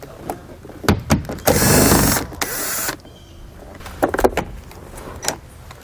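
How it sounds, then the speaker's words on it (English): A 10mm socket works bolts loose inside a truck cab, giving close clicks and clacks, then a loud, sustained whirring burst of a power tool for about a second and a half, followed by more scattered ratcheting taps. "we're going to go ahead and remove these bolts with a 10mm socket."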